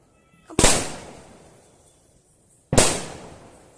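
Two sharp Diwali firecracker blasts from a multi-shot fireworks battery, each a loud crack followed by a decaying rumble, spaced about two seconds apart against a quiet outdoor background.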